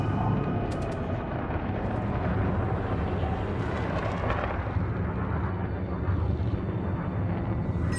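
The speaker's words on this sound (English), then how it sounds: "Target destroyed." A spaceship blows up in the space combat game Elite: Dangerous, a dense, continuous rumbling roar of explosion and engine noise filling the whole stretch at steady loudness, with no pause or quiet tail.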